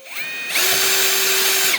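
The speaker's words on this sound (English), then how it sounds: "and then use the drill, go to the hole" A power drill runs close and loud, spinning up briefly, then biting in with a steady whine while marking a hole in the bed of a RefineColor UV printer; no one speaks.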